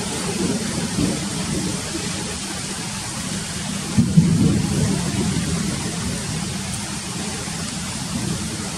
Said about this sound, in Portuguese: Ó, os pingos.